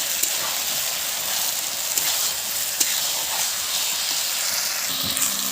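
Potato and pointed gourd pieces frying in spice masala in a pan give a steady, loud sizzling hiss that runs throughout, with a few faint knocks.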